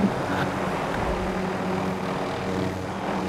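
A helicopter in Call of Duty: Modern Warfare gives a steady droning engine and rotor hum, moderately loud and constant throughout, with no voices.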